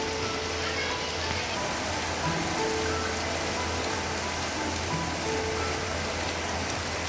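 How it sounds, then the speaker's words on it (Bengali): Heavy rain falls steadily as a dense, even hiss, heard from indoors in a kitchen, with a constant low hum beneath and no clear gaps over the whole stretch. "এখন বৃষ্টির আওয়াজটা শুনেই হয়তো বা আপনারা বুঝতে পারছেন কি পরিমাণে বৃষ্টি হচ্ছে"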